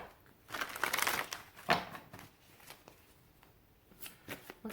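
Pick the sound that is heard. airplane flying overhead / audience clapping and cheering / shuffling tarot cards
shuffling tarot cards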